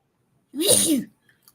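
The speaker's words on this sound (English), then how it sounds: "Don't sneeze on the keyboard now." A single sharp sneeze bursts out, close and loud, lasting about half a second, followed by near silence.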